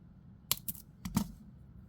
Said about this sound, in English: now we're going to cut off our excess here.